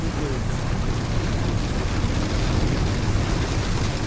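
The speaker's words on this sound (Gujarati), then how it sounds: "શામળાજી પહોંચતા પહોંચતા તો વરસાદ જુઓ ધબાધબ." Heavy rain pours down steadily at Shamlaji temple in Gujarat, a dense continuous roar of close, loud downpour without a break.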